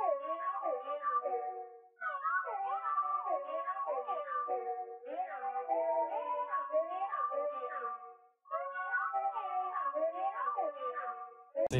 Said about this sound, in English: I opened up Analog Lab and I picked this Scary Hours preset from Louis Flynn